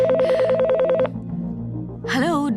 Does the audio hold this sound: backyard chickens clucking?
no